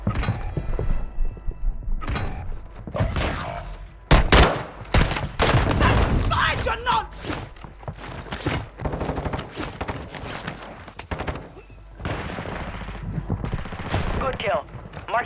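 Video-game gunfire in a multiplayer shooter, with repeated loud bursts and single shots, machine-gun rattles and mechanical clicks, mixed with radio-style voices talking throughout.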